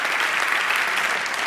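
Steady, dense applause from an audience at an online poetry slam show, continuous and even with no talk over it.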